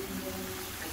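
A little water is poured into okra curry cooking in a pan, giving a short, steady splashing trickle at close range, heard alone for about a second.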